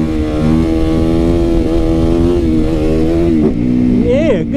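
A loud motorcycle engine revs hard near the listener, its pitch climbing and dipping as the throttle changes during street riding and wheelies, with a rider's voice partly over it.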